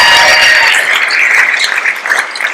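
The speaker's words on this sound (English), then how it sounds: "give her a clap if you want." Loud, close clapping from a memorial show audience, a brief burst of many hands that thins and tapers over a couple of seconds.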